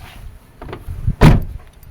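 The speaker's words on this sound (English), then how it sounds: "close this door" The door of a 2002 Toyota Land Cruiser swings shut with a single solid, close thud after some light rustling and handling sounds, then fades quickly into quiet.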